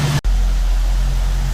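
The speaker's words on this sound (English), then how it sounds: "So it's pretty much idling happily now." A 1968 Mustang with a 289 V8 idles steadily after a carburetor rebuild, a low, constant rumble close by after a brief dropout at the start, with no one talking.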